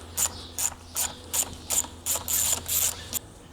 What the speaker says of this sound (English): we're going to take an 8mm socket, and we're going to very quickly wrench it out